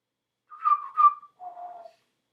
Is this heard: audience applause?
no